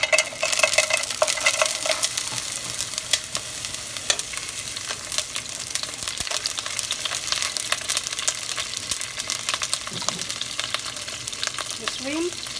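Garlic frying in hot oil while being stirred in a pan, a loud continuous sizzle with scraping stir strokes throughout, no voices.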